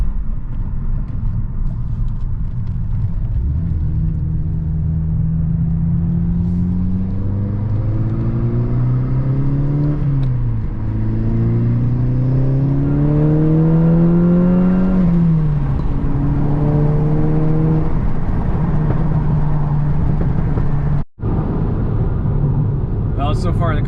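A VW MK6 GTI fitted with an HPA K04 turbo pulls hard through the gears, its engine note rising in steady climbing sweeps with brief drops at each shift, loud and close from inside the car.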